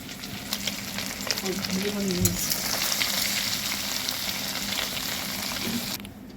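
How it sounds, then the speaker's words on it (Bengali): Eggs frying in hot oil until reddish, a loud steady sizzle and crackle with a short scrape of a spatula partway through, the sizzle cutting off abruptly near the end. "এইভাবে ডিমগুলো লাল করে ভেজে তুলে নিতে হবে।"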